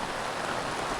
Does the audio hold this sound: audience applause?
no